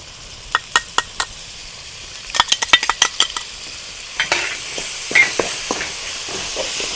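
Ginger garlic paste dropped into hot oil while cooking a village-style rabbit pepper fry, with sharp spoon taps against the pan, a burst of clinks, then a rising hiss and crackle as stirring continues.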